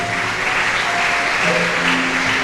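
A church congregation applauds in a dense, sustained burst of clapping that stays loud and even throughout, with a few voices faintly mixed in.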